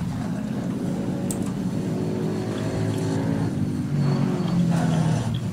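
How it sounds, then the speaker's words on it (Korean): A car engine drones in the PUBG (Battlegrounds) video game, a steady low rumble that swells louder toward the end as it revs. "어, 차 소리 장난 아닌데?"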